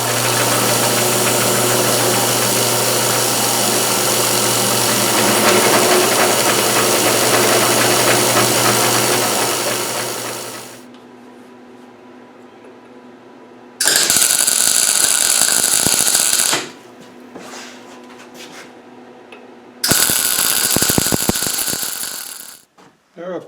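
A milling machine cuts a slot into a lathe dial for a Logan 820 lathe, grinding loudly and steadily for about ten seconds, then stopping, with two shorter loud bursts of cutting afterward.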